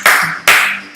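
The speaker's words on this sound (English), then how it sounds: "So stop the beat and clap your hands." Two loud, sharp hand claps spaced about half a second apart, with the start of a third at the end, ringing out alone in a Chicago Cubs fan song.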